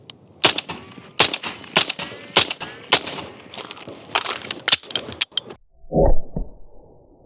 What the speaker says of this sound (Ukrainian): Зараз будемо імітувати щільний вогонь. Одразу буде 5 пострілів.